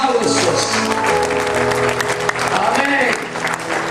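A crowd at an evening church gathering in Riobamba, Ecuador, claps steadily in sustained applause throughout, with voices faintly mixed in.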